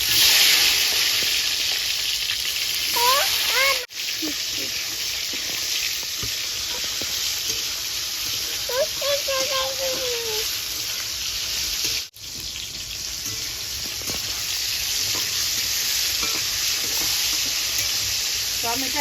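Ginger frying in a pan of hot oil while cooking a broccoli dish: a continuous loud hiss and crackle close up, with brief scraping sounds from stirring and two short dips in the sizzle.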